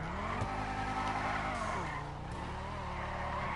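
Video game car drifting with a steady engine drone and a sustained, wavering tire squeal through the slide, with no voices.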